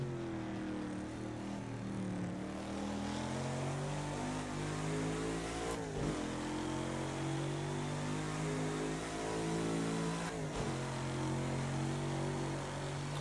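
Lotus 40 race car engine in Project Cars 2, a steady droning roar held under load with rising pitch, broken by two sharp gear shifts that dip and climb again, alone with no talking.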